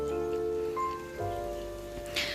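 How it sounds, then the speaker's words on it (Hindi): Light drizzle falling in fog-covered hills near a village, a soft steady patter under faint tonal hum, with a brief rustle near the end and no speech. "बूंदाबांदी हो ही रही है।"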